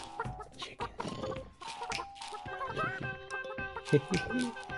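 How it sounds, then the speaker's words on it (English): Chickens cluck in short clipped bursts close by, mixed with someone talking and some handling noise, fairly faint overall. "Chickens."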